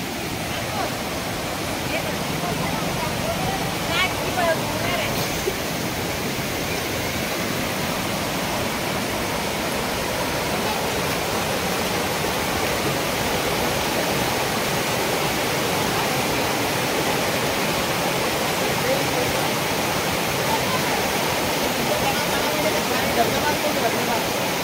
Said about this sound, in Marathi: इकडून आलेलं पाणी खाली धबधब्याकडे जातो